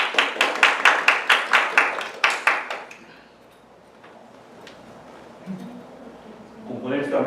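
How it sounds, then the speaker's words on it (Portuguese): Audience applause welcoming a speaker named Renato at a speaking event: a burst of rhythmic clapping for about three seconds, then fading to quiet room noise as a voice begins. "Palmas para Renato!"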